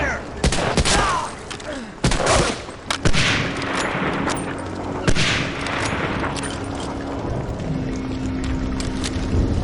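Gunfire in the video game Medal of Honor Allied Assault, set in Brittany: rapid, sharp shots and bursts crack close by over a constant rumbling, wind-like background, with a faint steady hum beneath.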